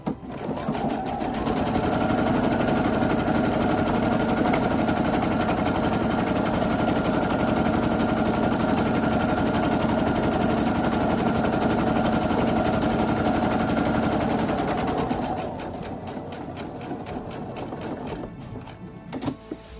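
A sewing machine runs a long, steady burst while stitching the seam of a tote bag, its rapid mechanical chatter loud and close, then slowing into a few scattered stitches near the end.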